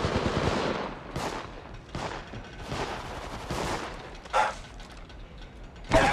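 Rapid, dense bursts of automatic gunfire in the video game Apex Legends Mobile, loud and near, firing almost continuously with sharper cracks standing out.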